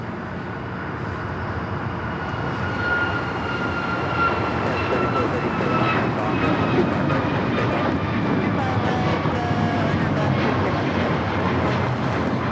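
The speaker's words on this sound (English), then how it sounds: "This is Alaska Airlines 1374 taking off to Loretto on the MAX 9" An Alaska Airlines Boeing 737 MAX 9 takes off at LAX, a broad, steady jet roar that swells slightly and holds, with faint tonal engine whines over it.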